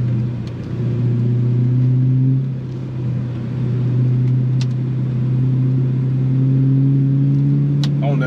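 Steady engine drone from a BMW M3 E92's naturally aspirated V8, a low, full rumble that swells as it accelerates, heard from inside the cabin with no talking.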